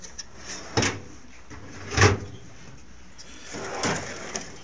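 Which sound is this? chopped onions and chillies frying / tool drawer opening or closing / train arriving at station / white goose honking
tool drawer opening or closing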